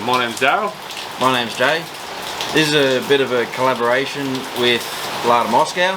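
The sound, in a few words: rain falling outdoors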